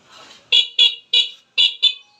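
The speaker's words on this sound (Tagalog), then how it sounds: "So ayun lang yung busina niya." A small electric bike horn beeps five times in quick, slightly uneven succession, each toot short, bright and rather weak, after a faint rustle.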